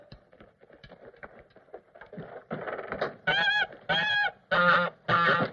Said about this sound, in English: Get that fool goose out of here!